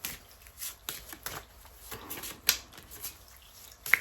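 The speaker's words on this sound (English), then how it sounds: "so I usually shuffle the cards" A deck of cards shuffled by hand during a card reading, soft riffling bursts and taps at an irregular rhythm, quiet and close with no talk.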